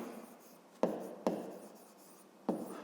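Pen or pencil tapping and scratching on paper while working a fifth-grade maths exercise by hand, three short sharp strokes over a faint soft rustle, close and quiet, no talking.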